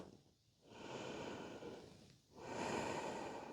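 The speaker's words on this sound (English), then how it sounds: "We're going to take one more breath." Slow, deep breathing during a grounding yoga session, two long airy inhale-exhale cycles, soft and close with brief pauses between them and no talking.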